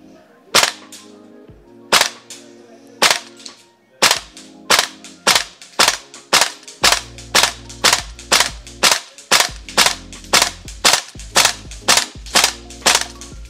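VFC AK-74M gas blowback airsoft rifle firing 0.32 g BBs at 110 PSI on an outdoor range at 35 metres: about twenty loud, sharp single shots at a steady, slightly uneven pace, with no talking.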